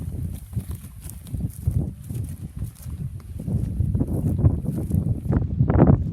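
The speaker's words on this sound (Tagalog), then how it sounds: "Mahangin siya masyado. Buti na lang mahangin siya guys." Gusty wind buffets the microphone with a loud, rough rumble, growing stronger toward the end, with faint rustling and shuffling underneath.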